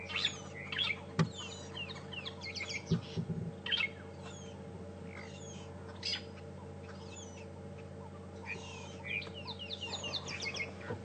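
Green woodpeckers, formerly called red-billed woodpeckers, give repeated chattering, cackling calls from trees on a morning drive at Djuma Game Reserve. The calls come in scattered bursts over a low, steady engine hum.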